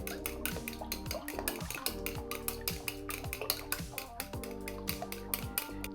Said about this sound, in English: And I'm gonna add 3 large beaten eggs to the sauce. And you just want to beat the eggs really well.